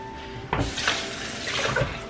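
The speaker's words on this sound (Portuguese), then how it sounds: "Aí eu deixo de molho aqui com água e sabão." Tap water runs into a sink to soak baby bibs with soap, a soft, continuous splashing close by with a few brief louder gushes and no talk.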